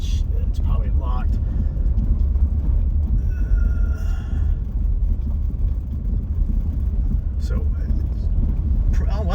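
A camper van rolls along a paved road in South Carolina, with a steady, loud low-pitched road and engine rumble from inside the cabin and occasional voices over it.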